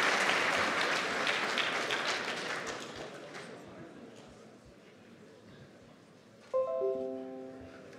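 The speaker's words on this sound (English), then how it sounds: "Let's give a round of applause, please." An audience at a hackathon opening ceremony claps in a loud round of applause that gradually thins and fades. Near the end, a short chime-like tone rings out.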